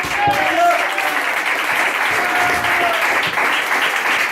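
Loud, continuous clapping from a church congregation at a Sunday service, close and sustained, with a few voices and a faint tonal line rising briefly over the dense applause.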